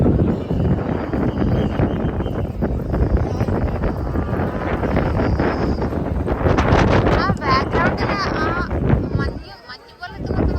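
Strong wind blows at the Adiyogi statue in Coimbatore, buffeting the microphone with a loud, continuous roar that dips briefly near the end, while people talk over it.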